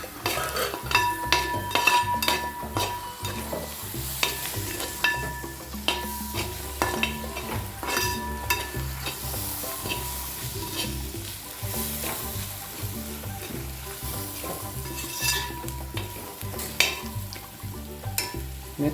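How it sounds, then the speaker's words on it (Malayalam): Halved tomatoes sizzle steadily in a hot pan for pepper chicken, a continuous close frying crackle with occasional clinks of a utensil against the pan and no talk. "3 തക്കാളിയാണ് നമ്മൾ 2ആയിട്ട് മുറിച്ചിട്ട് ഇടുവാണ്"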